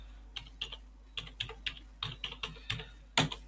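Fingers type on a computer keyboard while entering a search in the Spacemacs editor, a series of crisp keystroke clicks in quick irregular bursts with brief pauses, ending on a louder tap, close and alone without speech.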